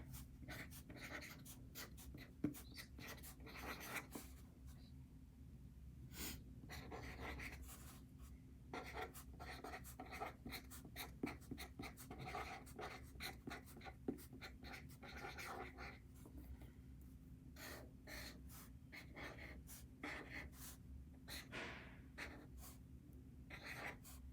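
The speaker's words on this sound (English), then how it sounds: "So I'm going to write the title here." Handwriting a title during a linear algebra lesson, with faint, continuous pen strokes scratching at a steady pace over a low background hum, quiet and close.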